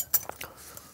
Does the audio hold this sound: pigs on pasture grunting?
no